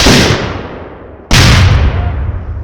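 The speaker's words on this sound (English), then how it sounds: "And maximum elevation, aim. Fire!" Two sharp, loud rifle volleys from a firing detail at a Confederate cemetery memorial service in Quitman, Mississippi, each a single crack that fades into a long outdoor echo, about 1.3 seconds apart.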